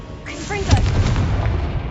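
A Confringo blast spell cast in the Hogwarts Legacy video game, a single booming burst with a whooshing crackle that trails off into a rumbling tail.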